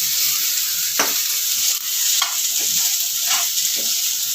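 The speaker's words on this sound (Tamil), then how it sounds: "இது கூட 1/2 ஸ்பூன் இஞ்சி பூண்டு பேஸ்ட்டு சேர்த்து நல்லா வதக்கிடலாம்." Sliced onions sauté with half a spoon of ginger garlic paste in a pan, a steady loud sizzle broken by a few sharp clinks and scrapes of a spoon stirring.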